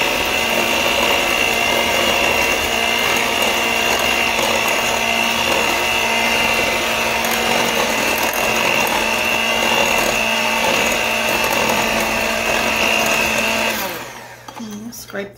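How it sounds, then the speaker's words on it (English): An electric hand beater whirs continuously and loudly through cake batter as flour is added, a steady close-up drone that cuts off near the end. "So I'm going to put my beater down in here."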